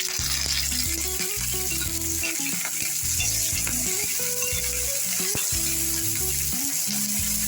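Cashews and curry leaves fry in hot oil while mango pulihora is being made, giving a loud, continuous close sizzle with occasional stirring and a steady tonal backing underneath.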